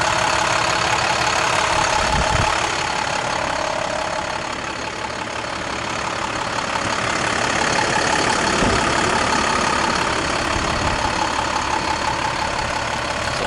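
A truck's engine idles steadily after a cold start, a continuous mid-pitched mechanical drone with a faint knocking texture, fairly close and loud, with a brief dip midway and no talking.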